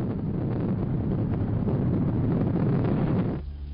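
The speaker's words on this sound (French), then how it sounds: "le vent qui commence à faire son apparition" Strong wind buffets the microphone along the Ironman Hawaii triathlon course, a steady roaring rumble that holds for several seconds and then drops off abruptly near the end.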